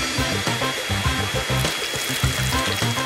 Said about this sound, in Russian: настало время растопить одну из шоколадок. И сделаю я это с помощью фена.